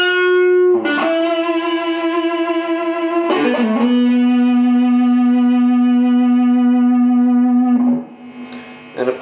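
Electric guitar through a Fender Blues Junior amp with the mid-range boost engaged, Boogie-style tone: a few sustained, singing overdriven notes with long held sustain and a touch of echo, loud and alone.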